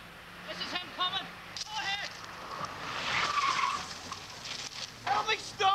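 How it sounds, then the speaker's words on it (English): A car skids to a stop after hitting a police stinger, with tyre squeal and rough scraping rising in the middle, while several people shout and talk over it. "The stinger hits and the car comes to a stop in a few hundred yards."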